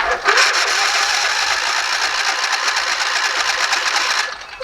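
Briggs & Stratton small engine cranking on full choke as it struggles to start, a loud rapid rattling churn held steady for about four seconds before it cuts off abruptly.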